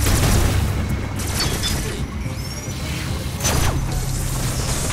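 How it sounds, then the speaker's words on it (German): Missiles launched in Metroid Dread, heavy booming blasts and whooshing impacts against a low rumbling game soundscape, a couple of distinct launches with metallic mechanism noise between. "Ah, wir können auch einfach Raketen schießen."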